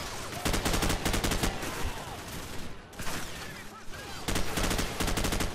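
Sustained machine-gun fire in the Call of Duty: Modern Warfare video game, loud continuous volleys of rapid shots that pause briefly mid-clip before resuming at full intensity.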